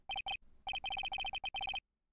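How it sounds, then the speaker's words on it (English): Telephone ringtone from the video game Phoenix Wright: Ace Attorney, a rapid electronic trill of short bright pulses repeating in quick bursts, clear and alone, stopping abruptly. "All of a sudden, the phone began to ring."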